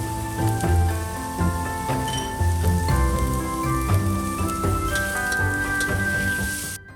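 Leeks sizzle and crackle as they are stir-fried with roast pork and dried mushrooms in a hot wok, a steady frying hiss with soft tonal music playing underneath.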